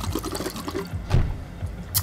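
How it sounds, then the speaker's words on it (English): Bubbles blown through a straw into a drink, a close, gurgling liquid burble that rises and falls over about two seconds with a stronger bubbly surge midway. "You guys remember making bubbles in your pops and your milks and everything?"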